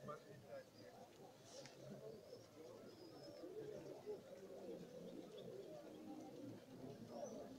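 Soft, low cooing of pigeons at an outdoor bird fair, faint and continuous over a murmur of people and background bustle, with occasional brief chirps from other birds nearby.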